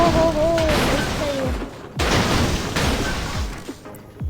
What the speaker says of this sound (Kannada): ಗಾಡಿ ಬ್ಲಾಸ್ಟ್